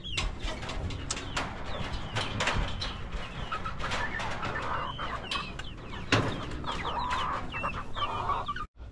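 Many chickens in battery cages clucking and calling at feeding time, a dense, busy chorus of overlapping clucks and squawks close by, with no talking.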